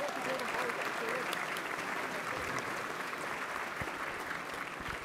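Steady audience applause for a music trio at an afternoon government swearing-in ceremony, fairly quiet and even throughout, with faint voices underneath.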